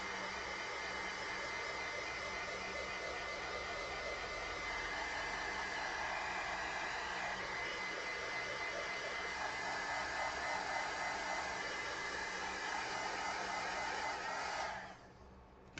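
A handheld heat tool blows steadily on drying paint on a craft piece, a loud continuous whooshing hiss that runs unbroken for about fifteen seconds before cutting off abruptly.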